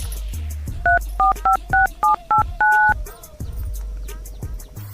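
A phone keypad beeps out a rapid run of seven dialing tones, the last held longer, over a low background hum with brief faint voices around it.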